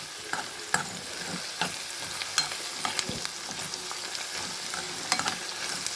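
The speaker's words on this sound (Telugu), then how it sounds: "దొండకాయని కానీ వంకాయని కానీ ఇలా వేయించుకోవాలి" Ivy gourd or brinjal frying and being stirred in a pan, a steady close sizzle broken by scraping strokes of the spatula throughout, with no voices.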